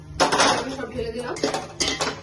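Rice is poured into a metal pan for vegetable fried rice, making two close rattling, clattering bursts of grains against the pan.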